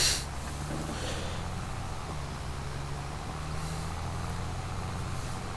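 Farm tractor pulling an oversized plough in a farming simulator game, a steady low engine drone with a brief hissing burst at the start, continuous and moderately quiet throughout.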